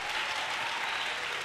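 A church congregation applauds during a worship service, a dense, steady wash of clapping from many hands, close and continuous for a brief moment without a break.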